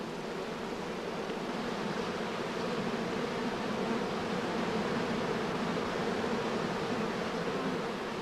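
Honeybees on a hive comb give off a soft, dense, continuous buzzing that stays even and fairly faint throughout, with no voices.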